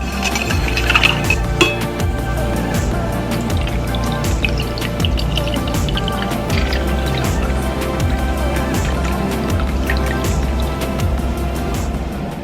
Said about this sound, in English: So I'm just gonna give these a little stir, pour them into the glasses, and we're done.